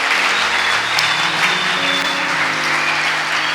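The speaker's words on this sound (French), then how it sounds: "Est-ce que nous pouvons acclamer pour notre Dieu?" A church congregation applauds and cheers for God, a dense, steady roar of many clapping hands with shouts mixed in, loud and continuous throughout.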